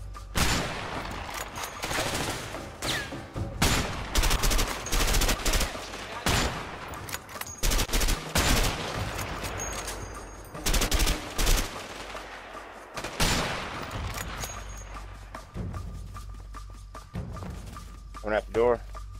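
Sniper rifle fire in the co-op video game A Way Out, with repeated sharp gunshot bursts and fusillades rising and falling through a long stretch of combat, mixed with thuds and crashes over game audio.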